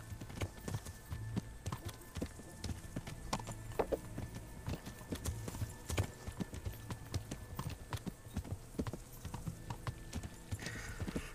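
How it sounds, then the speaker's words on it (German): Horses in the video game Kingdom Come stand and shift about, giving a steady run of hoof clip-clops with occasional soft snorts and faint whinnies, close and moderately loud, with no talk. "Die Pferde stehen immer noch da."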